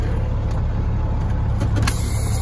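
A semi truck's diesel engine rumbles steadily and low as the tractor creeps forward, loud and close from the cab, with no talking.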